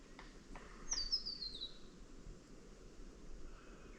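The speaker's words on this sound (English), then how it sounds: "There is a bird just above us, but I cannot see what it is to identify it." A bird calls from just overhead at a riverside campground, a short high chirping phrase after a few soft clicks, heard clearly over a quiet outdoor background hiss.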